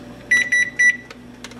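A kitchen timer set during meal prep beeps in short, high, evenly spaced pulses, several in a row, close and clear over a faint low hum.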